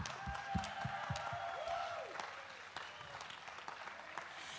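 An outdoor summer concert audience claps and cheers after a band's performance, sustained applause with sharp individual claps, while a presenter speaks over a microphone and feedback-like tones ring faintly.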